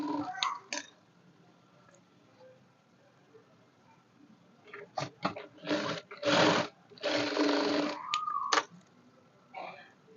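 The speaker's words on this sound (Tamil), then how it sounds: "இப்போ மார்க் பண்ண இடத்துல நம்ம இப்போ தையல் போடுறோம்." A sewing machine stitches along a marked line on folded fabric in short, faint bursts, with pauses between runs of stitching and a quiet background.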